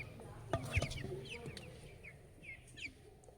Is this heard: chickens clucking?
yes